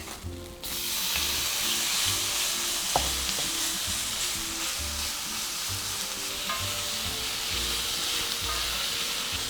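Strips of beef fillet sizzle and fry steadily in a hot pan, a continuous loud crackling hiss with occasional stirring scrapes.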